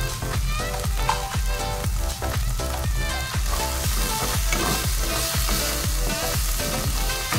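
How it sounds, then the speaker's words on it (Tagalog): Sliced hotdog sautés in a pan for spaghetti sauce, a loud, continuous crackling sizzle with steady, rhythmic stirring scrapes throughout. "Igisa-gisa muna natin ang ating hotdog para masarap ang lasa ng ating sauce na spaghetti"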